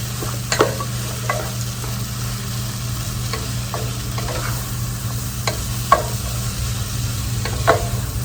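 Lo mein sizzles steadily in a camp pan while it is tossed, with scattered clinks and scrapes of the utensil against the pan over a constant low hum and no talking.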